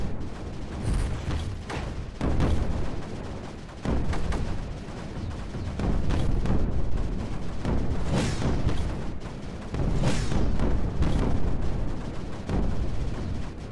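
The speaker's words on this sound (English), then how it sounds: "The explosions here shall go great." Explosions from the video game Creeper World 4 roll on continuously as a dense, rumbling barrage, with repeated booming bursts swelling and easing at a loud, steady level.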